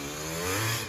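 Honda ATC250R three-wheeler with a 310 big bore kit, its two-stroke engine buzzing hard and rising in pitch through a short, loud, close rev with no voices.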